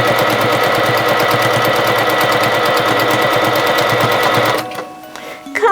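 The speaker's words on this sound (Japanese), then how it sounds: "はい、裾のとこ縫っていきます。" A sewing machine runs close and loud as it stitches a narrow triple-folded hem on a cotton yukata, with a fast, even rattle of needle strokes that stops abruptly near the end, leaving faint handling noise.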